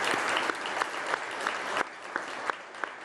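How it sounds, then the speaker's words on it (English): Audience applause at a recognition breakfast, a sustained wash of many hands clapping at moderate distance, with a few louder individual claps standing out. "So again, a round of applause."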